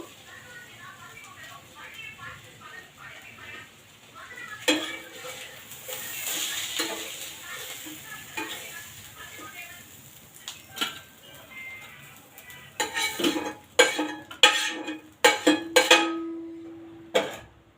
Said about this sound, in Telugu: ఇది తినేలోపు ఇంకో దోశ వేసేస్తాను